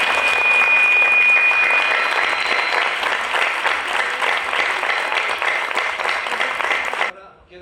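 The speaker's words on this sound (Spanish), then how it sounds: "Un gran aplauso para ellos." An audience at a film preview screening breaks into loud, dense applause that holds steady for about seven seconds, then cuts off abruptly.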